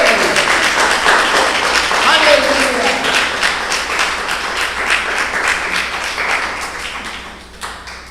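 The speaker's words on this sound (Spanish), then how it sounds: "Dale el aplauso al Rey." A Messianic congregation applauds loudly during a church service, with dense, close clapping throughout. Worshippers' voices call out over it, and the clapping tapers off near the end.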